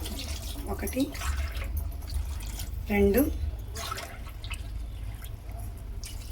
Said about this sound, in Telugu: వాటర్ పోసి